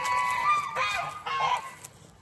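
Geese honk loudly at close range, three harsh calls in quick succession over roughly two seconds, fading out at the end.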